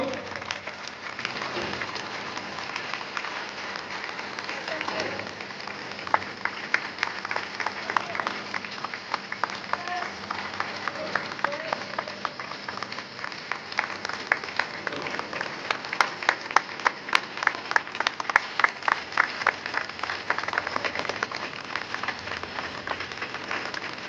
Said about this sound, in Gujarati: આપ જોરદાર તાળીઓ વગાડશો